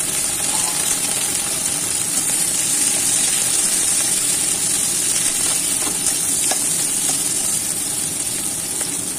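Chopped tomato hits a hot pan for a Bengali crab and carrot curry, giving a steady, loud, close sizzle that holds evenly throughout with no talking.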